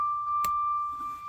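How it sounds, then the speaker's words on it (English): Diesel pusher motorhome cab warning tone, sounding with the key on and the leveling jacks up: a steady, continuous high beep running the whole time, joined by one sharp click partway through, with no talking. "Oh, I know it's beeping over here."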